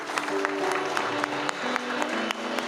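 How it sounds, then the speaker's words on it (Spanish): A church congregation claps steadily, with dense applause filling the space and a sustained tone ringing underneath. "pueden dar un fuerte aplauso?"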